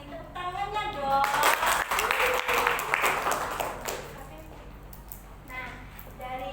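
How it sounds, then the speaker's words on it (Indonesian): A class in a micro-teaching lesson on Pancasila bursts into a short round of applause that swells and fades within a few seconds, with voices talking around it. "tepuk tangannya dong"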